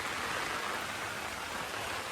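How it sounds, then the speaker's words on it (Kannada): Steady monsoon rain pours outside a village house in Karnataka's rainy season, a dense even hiss of falling water with no voices, constant throughout. "ಮಳೆ ಬೇರೆ ಹೋಯ್ತಾ ಇತ್ತು ಹೊರಗಡೆ ಸ್ಟಾರ್ಟ್ ಆಗಿದೆ ನೋಡಿ ಫುಲ್ಲು"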